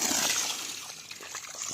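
Water gushing steadily from a 1700 W BLDC solar borewell pump drawing from 325 feet through a 1.5-inch outlet, a continuous close splashing and trickling hiss with no voices.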